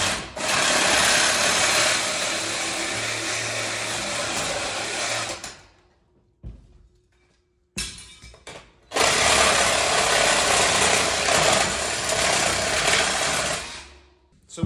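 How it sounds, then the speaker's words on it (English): A saw blade cuts off protruding screw ends through plywood screwed onto a log splitter, making two long, loud, harsh buzzing cuts of about five seconds each, separated by a brief quiet pause. "Now I'm going to snip these off with a saw blade."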